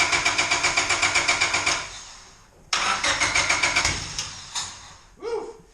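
A Honda D16Y7 engine is cranked over in rhythmic starter pulses, sputters and dies, is cranked again, then coughs out a few sharp pops back through the intake at close range.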